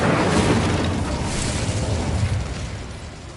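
Incendio fire spell cast in Hogwarts Legacy, a loud whooshing burst of flame with a deep rumbling low end that sustains and slowly fades, heard alone without voices.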